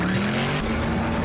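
Car skidding with tires squealing in the movie Logan, a sustained high screech over a roaring engine, loud and continuous, fading slightly toward the end.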